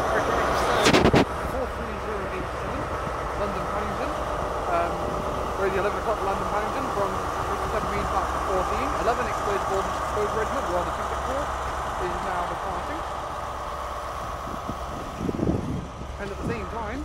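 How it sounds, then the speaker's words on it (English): A CrossCountry passenger train bound for Manchester Piccadilly pulls out of a platform, a steady, loud diesel rumble with a sharp burst near the start and a brief swell near the end. "The 11 o'clock cross country service to Manchester Piccadilly is leaving the engine shed from platform 5."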